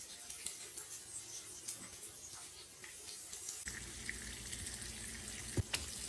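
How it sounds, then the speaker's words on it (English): Food frying in hot oil in a home kitchen, a faint continuous crackling sizzle with scattered pops, joined partway by running water and a few sharp clinks, heard at low level without talk. "Now it's frying."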